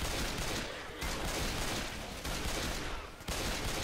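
Rapid gunfire at zombies in the game Left 4 Dead 2, dense continuous volleys of shots filling the scene, briefly dipping twice before resuming, loud and close with no voices.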